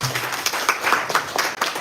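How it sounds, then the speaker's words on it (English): Brief audience applause at a corporate conference session, a dense burst of clapping hands that holds steady for a couple of seconds before tapering, moderately close. "So can we do another applause for everybody?"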